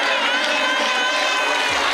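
A crowd at a climbing competition cheers and shouts in a dense, loud, continuous roar, like an arena audience carrying on without a break.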